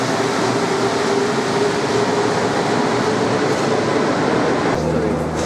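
Subway train at a Santiago metro station in Chile, a loud, steady rumble and roar of rail cars with a faint tonal whine, constant throughout with a slight change near the end.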